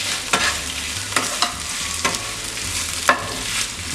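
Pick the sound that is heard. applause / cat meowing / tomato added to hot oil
tomato added to hot oil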